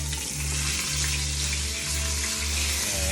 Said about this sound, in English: We're gonna brown each side of them for maybe about a minute.